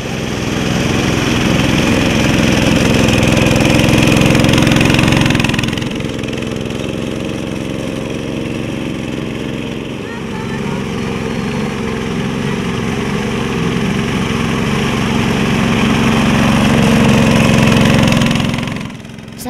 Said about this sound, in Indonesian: sudah menggunakan mesin traktor